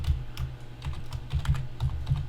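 Keystrokes tapping on a computer keyboard while entering a username at a Windows 10 virtual machine login screen, a quick run of close, moderately loud clicks in uneven bursts over a low background hum.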